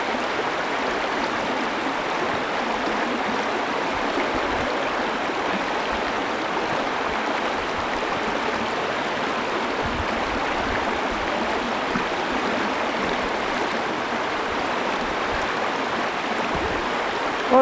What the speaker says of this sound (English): A lot of fun water here.